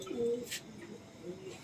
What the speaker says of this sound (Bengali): দারুণ পায়রা।